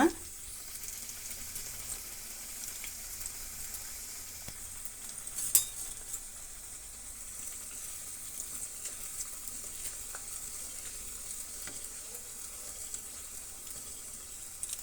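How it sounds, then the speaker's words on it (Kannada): Sweet pieces deep frying in boiling oil, a steady soft sizzle filling the whole stretch with faint clinks of utensils and one sharp tap midway. "ಆಯಿಲು ಬಾಯ್ಲಾಗಿದೆ ಈಗ ಒಂದೊಂದಾಗಿ ಡೀಪ್ ಫ್ರೈ ಮಾಡ್ಕೊಳ್ಳೋಣ"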